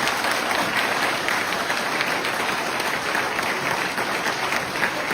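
Villagers at a railway event break into dense, steady applause, a continuous wash of many hands clapping together with no pauses.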